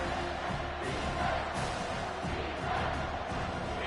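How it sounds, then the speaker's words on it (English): A stadium crowd in a college football video game, Michigan versus TCU, roars steadily at a distance ahead of a big third-down play, a dense continuous wash of cheering. "The crowd elevating its energy, willing this defense to get a stop on this big 3rd down"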